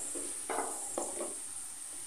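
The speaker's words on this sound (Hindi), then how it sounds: "प्याज हल्की ब्राउन हो गई है, बस इतना ही हमें ब्राउन करना है" Onions frying lightly brown in a pan, stirred with a few distinct scraping strokes over a soft, steady sizzle.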